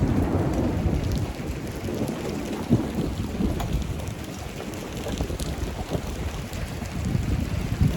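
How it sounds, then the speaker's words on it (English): Hail pelting down in a Colorado thunderstorm, a loud, dense roar of rain and ice with scattered sharp impacts and low rumbling underneath, continuous and close. "Uh-oh, we got hail."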